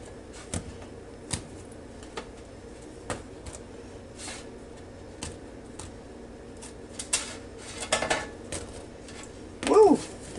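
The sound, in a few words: cheddar cheese biscuits put into a bread basket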